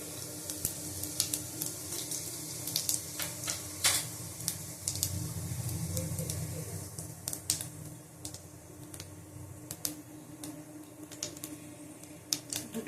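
A spoonful of cumin seeds fries in hot oil in a kadai, giving a quiet, steady sizzle dotted with sharp, irregular pops and crackles.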